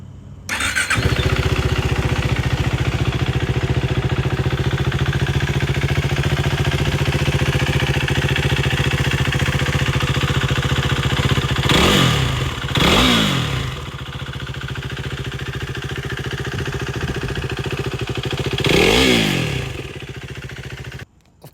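A 2016 KTM Duke 390 motorcycle starts and idles with a steady close rumble, then revs sharply three times, two quick blips and a later single one, each rising and falling in pitch, before the engine cuts off.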